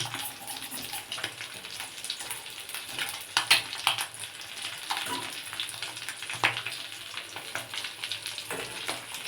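Stuffed egg devils fry in hot oil on a low flame, bubbling and sizzling steadily with crackling bursts as pieces are turned, and no voices are heard.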